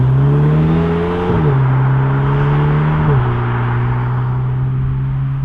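Renault Alpine A110 sports car driving on a country road, a loud steady engine drone with two gear shifts audible as brief dips before the revs settle and pull again, heard from inside the car with no talk.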